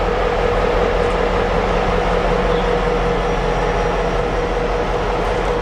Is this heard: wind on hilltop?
no